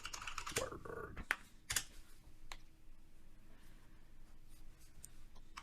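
Quick bursts of keystrokes on a computer keyboard while a terminal command is entered on an Ubuntu machine, close and faint, followed by sparse single clicks over a quiet background hum.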